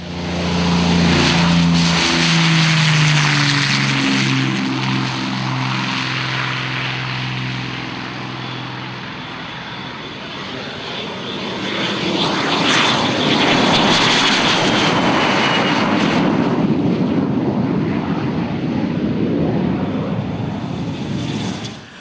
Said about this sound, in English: The majestic DH-98 Mosquito took to the air